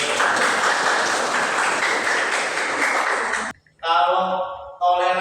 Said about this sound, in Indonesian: Kasih tepuk tangan berikut.